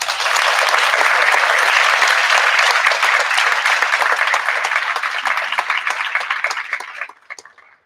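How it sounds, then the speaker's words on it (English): An audience at a high school humanities symposium award ceremony gives a loud round of applause, dense clapping that stays strong for several seconds, then thins and dies out with a few last claps. "everyone please give her a big round of applause"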